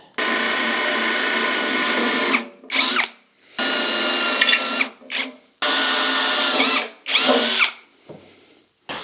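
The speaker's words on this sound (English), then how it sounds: "now it says to use a 5/32 drill bit" A power drill with a 5/32 bit whirs in three long bursts while drilling a hole for a wood stove install in a modular home, each followed by short higher-pitched revs and pauses, loud and close with no talking.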